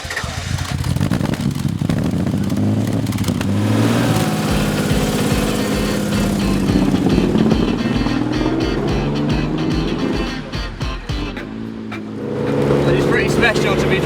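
An Aston Martin DB4 GT Zagato race car driven on a circuit, its engine roaring loudly and steadily from inside the cabin, rising and falling with gear changes, with a voice talking over it.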